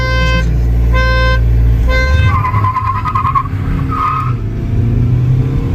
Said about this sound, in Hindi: अब भाई और बजाएंगे हॉर्न 3 बार, और उसके बाद रेस स्टार्ट